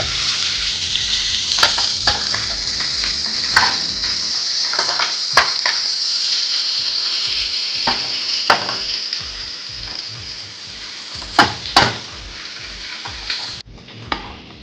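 Chopped mango for pickle stirred in a hot pan, a steady sizzle under repeated sharp scrapes and clinks of a spoon against the metal, loud and close with no voices.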